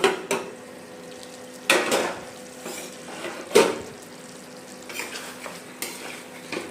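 Lemon chicken stir-fried in a pan, a low steady sizzle punctuated by several loud scraping clanks of a spatula against the metal.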